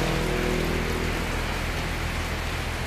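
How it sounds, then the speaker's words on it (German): Steady, dense rain in Laos hisses without a break, loud and close, a constant wash of drops with a faint low hum underneath. "Egal wie doll es regnet, ich werde einfach nicht nass."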